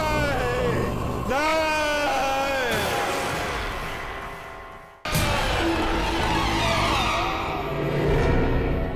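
In a horror TV serial, a man screams from the morgue: drawn-out, wavering cries ring out loudly, cut off abruptly, then a second burst of anguished shouting follows.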